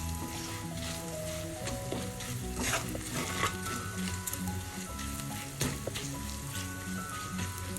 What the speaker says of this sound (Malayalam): എല്ലാം കൂടെ ഒന്ന് മിക്സ് ചെയ്യാം.